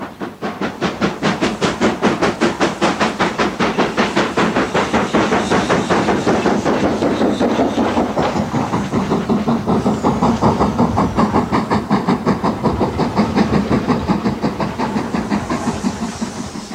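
LMS Black 5 steam locomotive No. 5025, built by Vulcan Foundry, working on the Strathspey Railway near Aviemore, with loud rapid rhythmic chuffing and steady hissing throughout, close by and unbroken.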